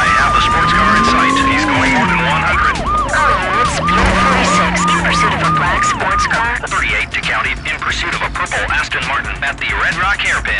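Police sirens wail in a Need for Speed High Stakes pursuit of a purple Aston Martin sports car at Redrock Ridge, loud rising-and-falling siren tones over a roaring engine and tire squeals, with voices talking over it.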